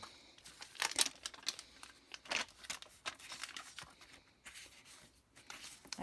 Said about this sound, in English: I hear something crinkling.